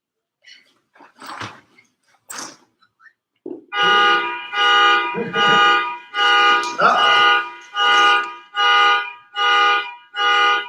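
Car alarm blaring outside in repeated loud, even honking bursts, about one per second, after a few brief sounds and a short bit of speech at the start.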